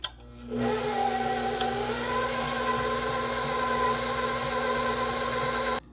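A stand mixer beats bourbon pecan pound cake batter at 5th speed, a steady loud motor whine with a broadband churning hum that starts abruptly and runs unchanged until it stops at the end.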